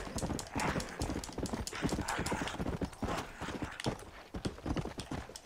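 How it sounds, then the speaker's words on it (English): A horse gallops in the Red Dead Redemption: Undead Nightmare video game. Its hooves beat in a fast, steady clip-clop that runs throughout at even loudness, with no talking. "Still can jump on this horse."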